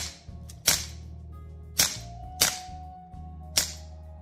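A replica Glock 9mm pistol is fired in quick succession, emptying the magazine: four sharp, loud cracks at irregular intervals over a low background hum, with no speech.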